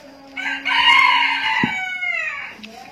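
A rooster crows loudly and close by in one long, drawn-out call lasting over two seconds, with a brief low thump partway through, heard during a Shimizu water pump repair.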